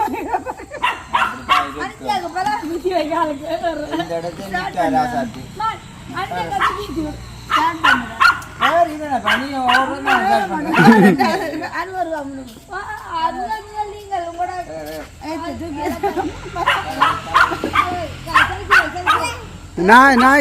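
A dog barks and yelps repeatedly in a village home during cooking, the barks coming in uneven bursts and mixing with whimpering, close and fairly loud, while people talk nearby.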